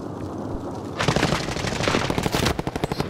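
Rapid automatic gunfire erupts in Call of Duty: Modern Warfare, dense bursts of shots starting after a quieter second and continuing loud and close, ending in a few separated cracking rounds.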